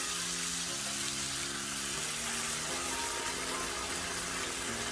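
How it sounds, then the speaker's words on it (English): Hot water pours into a can of tomato puree in a kitchen, a steady, even gush of running water with no voices over it. "the same can of tomato puree comes in, I'll fill it all the way to the top with some hot water"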